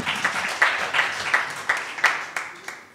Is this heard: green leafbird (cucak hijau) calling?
no